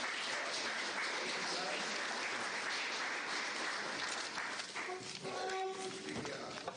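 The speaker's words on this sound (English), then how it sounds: "please join me in giving a round of applause." Audience applause at a public forum for local candidates running for office, a steady dense clapping that fills the room and trails off near the end under a few faint voices.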